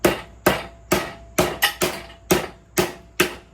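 A hammer strikes a clamped workpiece, about nine sharp, loud, close blows at a steady, slightly uneven pace, each ringing briefly before the next, with no talk.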